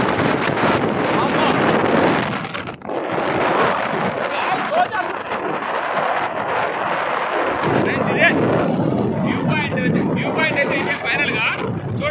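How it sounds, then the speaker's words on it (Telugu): Strong wind buffeting the microphone at a hill viewpoint at Horsley Hills, a loud, continuous roar with gusty swells, with someone talking underneath throughout. "నా వాయిస్ కంటే గాలి ఎక్కువ వినిపిస్తుండొచ్చు"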